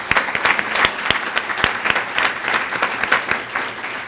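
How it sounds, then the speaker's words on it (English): A luncheon audience gives a round of applause for event sponsors, steady dense clapping with a few sharp individual claps standing out, sustained throughout without talk. "if we could have a round of applause for our sponsors."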